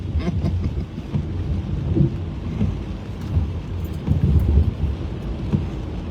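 Heavy rain pounds a moving car, a loud continuous rushing roar with road and wind rumble, swelling in gusts without any talk.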